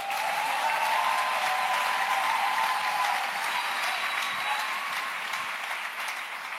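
A church congregation applauds in acclamation of the Lord during a French-language evening service, dense sustained clapping filling the room and tapering off slightly toward the end.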